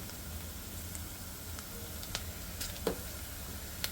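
Onions frying in a pan with asafoetida for a Tamil Nadu–style fish curry, a steady soft sizzle with a few faint clicks of stirring, close and without talk.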